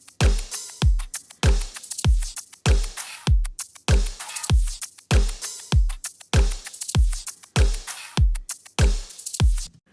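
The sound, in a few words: layered EDM drum loops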